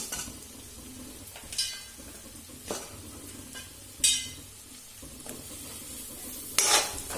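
Drumstick (moringa) pods frying in a pan for a Telugu tomato drumstick curry: a steady soft sizzle with occasional stirring scrapes and clinks of a utensil against the pan, close by with no talking.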